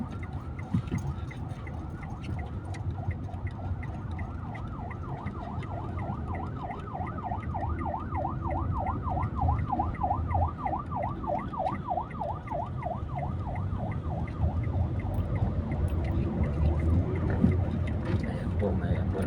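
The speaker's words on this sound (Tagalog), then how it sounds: "may ambulansya po kaya pinauna po natin" An ambulance siren wails in city traffic at a circle, rising and falling in a steady repeating cycle over the engine and road rumble, and it grows slightly louder as it goes on.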